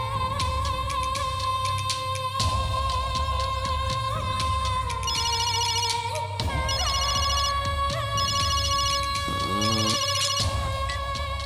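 A telephone ringtone in a Tamil television drama, a loud electronic melody repeating steadily with musical accompaniment underneath and no voices.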